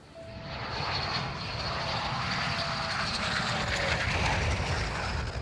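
A Red Arrows jet roars past overhead, a loud, steady, broad rush of jet noise that swells in the first second and holds, with no talk over it.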